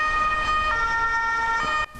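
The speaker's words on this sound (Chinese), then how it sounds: "救护车一直进入病院" An ambulance siren wails steadily with a rising and falling tone in a city street scene in Madrid during the pandemic, loud and close, cutting off abruptly near the end.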